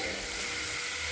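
Cooked pasta stirred into a hot, spicy masala in a pan, giving a steady close sizzle and frying hiss throughout with soft scraping of the stir.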